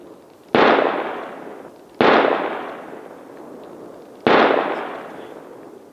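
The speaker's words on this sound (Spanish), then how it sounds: "Pega tres tiros y yo creo que no lo ha matado." Three rifle shots ring out during a wild boar hunt in Spain, each a loud sharp crack with a long echoing decay, spaced about one and a half to two seconds apart, with no talking.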